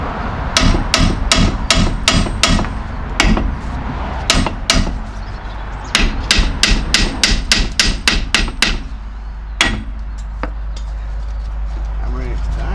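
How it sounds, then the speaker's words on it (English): Sharp, loud hammer blows ring out in quick bursts of several strikes, pausing between groups, close by with metallic clanks, during engine removal on a Vauxhall Vivaro 2.0. "hammering it tight."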